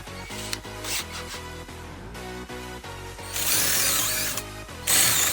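A hand drill boring a hole in wood for a taituyak, a Kazakh folk instrument: a rhythmic, close series of clicking ratchet-like turns, followed by a louder burst of grinding as the bit bites.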